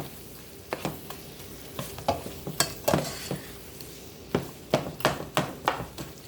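Ground meat browns with oregano in a pan for cheesy baked spaghetti, giving a low sizzle broken by repeated clacks and scrapes of a spoon stirring against the pan, close by.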